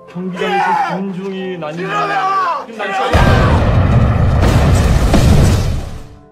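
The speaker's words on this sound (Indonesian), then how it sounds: "Tapi tiba-tiba saja ledakan terjadi." A sudden explosion erupts in a Korean spy film scene, a heavy broadband blast cutting in after tense dialogue and rumbling on for several seconds with debris and crowd-like noise beneath.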